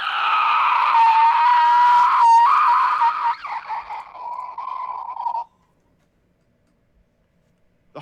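A human voice imitates a monster's loud dying shriek during a Dungeons and Dragons tabletop game: a sustained, wavering, piercing cry held for about five seconds, breaking into shaky bursts before stopping abruptly.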